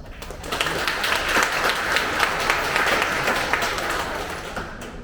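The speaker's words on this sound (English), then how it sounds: "can we just give a round of applause?" A live audience at a community kick-off event breaks into a sustained round of applause, dense clapping that holds steady for about five seconds before tapering slightly at the end.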